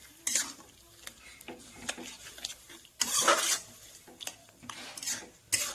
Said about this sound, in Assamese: তেতিয়া পানী দি ধুনীয়াকৈ লৰাই ল'ম।